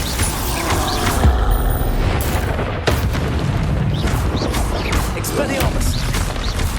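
Bombarda spell blasts in the video game Hogwarts Legacy, heavy booming explosions with crashing debris layered over a dense, busy mix of combat effects, loud and continuous with several sharp hits spread across the stretch.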